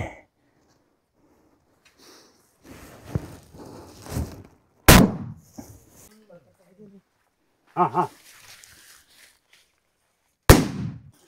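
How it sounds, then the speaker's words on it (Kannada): Firecrackers set off near a tribal village to drive away a wild elephant crack out in sharp, loud bursts, two standing out strongly among scattered smaller pops, with people talking between them. "ಅದಕ್ಕೆ ಪಟಾಕಿ ಹೊಡಿತಾ ಇದ್ದೀವಿ"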